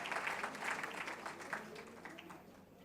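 Audience applause at an annual session after mention of legislation, a fairly brief burst of clapping that rises and fades over a few seconds, moderately loud with no talk on top.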